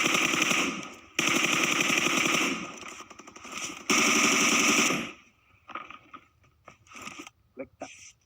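Bursts of automatic M4 rifle fire in PUBG Mobile, two long loud volleys with a short gap, then scattered quieter distant shots and clicks trailing off.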